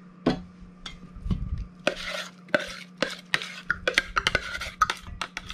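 Chopped onion and red pepper tipped into a bowl of cucumbers for relish, giving a run of clattering, scraping knocks and spoon-on-bowl clinks in quick irregular bursts, close and fairly loud, with no talking.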